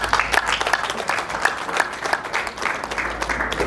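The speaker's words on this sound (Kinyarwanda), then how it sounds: "reka duhe umuryango wa Damascene amashyi menshi cyane" Guests at a wedding reception clap together in a steady, lively round of applause, with rhythmic claps rising and falling over a few seconds and a faint crowd murmur underneath.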